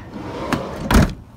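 A Ford Transit Custom 290 2.2 TDCi panel van's passenger door opens with a brief latch click, then a louder, fuller clunk from the door near the end, heard close up with no talking.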